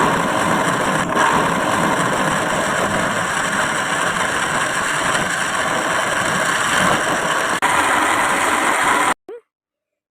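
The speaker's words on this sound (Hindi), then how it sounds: "अब इनको जग को हम बंद करके ये ग्राइंड कर लेंगे।" A blender grinds a peach shake made with fresh peaches and black pepper, giving a steady, loud continuous whir that runs nearly ten seconds before cutting off abruptly.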